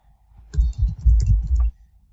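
Someone types a document on a computer keyboard, a close cluster of quick key clicks and thuds for about a second, with quiet moments before and after.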